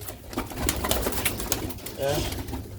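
Soft cooing of Sialkoti rooftop pigeons rises and falls close by, mixed with scattered rustling and light background noise.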